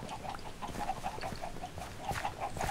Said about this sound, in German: Die ganzen Hühner hier